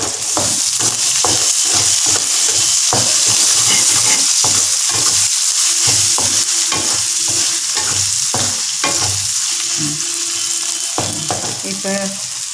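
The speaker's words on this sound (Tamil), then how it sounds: "நல்லா வெங்காயம் வதங்கிட்டோம்" Onions sauté and sizzle in a pan for a stir-fried okra dish, a steady loud frying hiss broken by repeated scraping stirs throughout.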